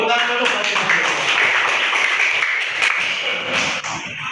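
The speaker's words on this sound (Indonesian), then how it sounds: "Oke, tepuk tangan dulu." A fourth-grade class of children claps together in a school classroom, a dense, steady patter of many hands that runs for several seconds at fairly loud volume, with a few voices mixed in.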